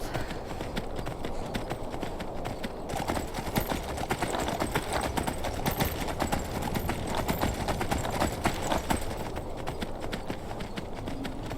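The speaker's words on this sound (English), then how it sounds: "we're just going to take our horse from here and ride our way over to Kynesgrove" Horse hooves gallop steadily in Skyrim, a continuous rapid clip-clop of a ridden horse in the game, dense and moderately loud with a constant outdoor rumble beneath and no talking.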